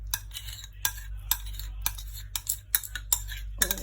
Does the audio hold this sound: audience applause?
no